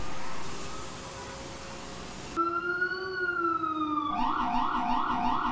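An ambulance siren wails in a Manhattan emergency response, first a steady drone, then a rising wail shifting into a fast alternating yelp, loud and close.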